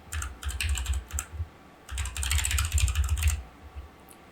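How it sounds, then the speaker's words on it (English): Fingers type on a computer keyboard in two close, quick bursts of clicking keys separated by a short pause, with no voices. "Type in the domain of your Gitea instance."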